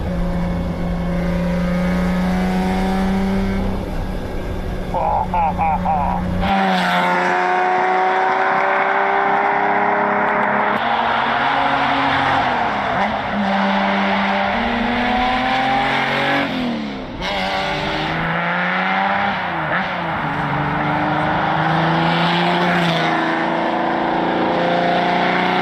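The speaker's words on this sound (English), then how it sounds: "Unquestionably the most beautiful car ever made" A 1971 Lamborghini Miura supercar being driven hard: a loud, close engine revving and rising through gears, with repeated pitch sweeps and bursts of tire squeal, no talk.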